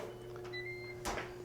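Lid of a Ninja Foodi cooker swings shut with a single short thud and clatter near the microphone, set against a steady appliance hum in a kitchen.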